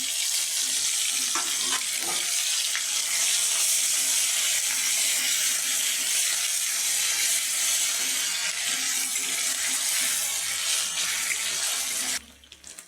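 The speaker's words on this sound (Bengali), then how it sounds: "আমার মশলাটা ভাজা ভাজা হয়ে গেছে" Onion paste, ginger, garlic and green chillies frying in a spice paste for a curd-style catla fish curry give a steady, loud broadband sizzle that hisses on without a break, then cuts off sharply near the end.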